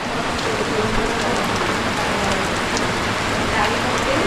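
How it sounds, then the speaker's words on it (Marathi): Heavy monsoon rain falls outside a house, a loud steady wash of dense drops on surfaces that continues without a break for the whole stretch. "बाहेर पाऊस बघ एकदम मस्त पाऊस आलेला आहे"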